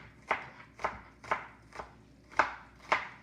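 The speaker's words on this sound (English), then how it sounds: "And then I just run my knife through that top 1/4 inch to just get the rest of that cut up." A knife chops through a small onion on a board with six crisp, evenly spaced strokes about half a second apart, close and clear over a quiet kitchen background.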